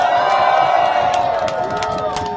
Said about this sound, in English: Give yourself a round of applause, number one.